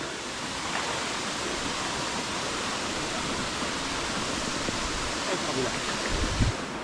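Sea waves wash against the shore in a steady, broad rushing hiss that stays even and fairly loud throughout, with faint voices now and then.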